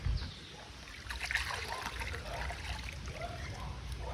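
Water trickling and splashing softly as bird feeders are moved into a scrubbing bucket, faint dribbles and small splashes close by, with a brief bump at the start.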